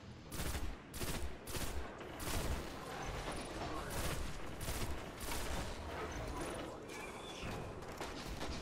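Enemies fire at the player in a video game, with dense, sustained gunfire and rhythmic bursts of shots, loud and close throughout with no pause.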